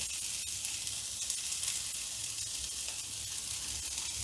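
Chopped onion sizzling steadily in hot oil in a pan for masala pav, a continuous close hiss with no talking.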